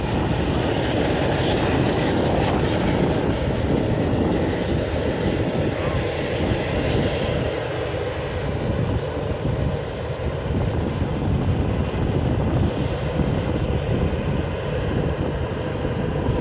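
Loud, continuous jet roar fills the air at the Manchester Airport runway visitor park as a Lufthansa airliner works the runway, a broad steady rumble with no pauses.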